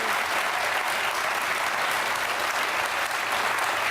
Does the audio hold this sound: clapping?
yes